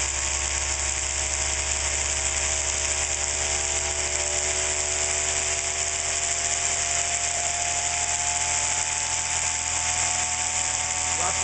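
A see-through oil centrifuge spins at high RPM while filtering waste vegetable oil, giving a steady, loud whining hum with a shrill tone that creeps slowly upward as it speeds up, heard close and uninterrupted.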